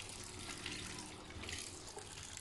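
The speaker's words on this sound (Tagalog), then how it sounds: "huhugasan ko lang yung ating nakuhang talbos kamote" Running tap water splashes over freshly picked sweet potato leaves being washed in a sink, a steady close-up rush of water with no talking.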